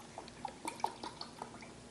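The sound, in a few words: pouring cauliflower cooking water to measure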